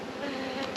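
Dense, continuous buzzing of honey bees swarming close around a beehive frame, a steady droning hum with no pauses.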